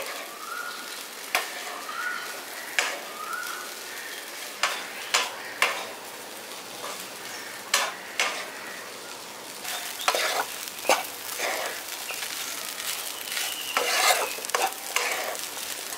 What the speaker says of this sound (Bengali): এবার মশলাটার সঙ্গে মিশিয়ে দিচ্ছি।